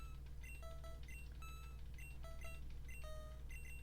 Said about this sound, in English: if you'll hear the menu beeping in the background